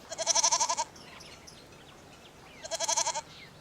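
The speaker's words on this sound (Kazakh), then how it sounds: "Ешкі" A goat bleating twice, each a loud, close, quavering call under a second long, separated by about two seconds of quiet.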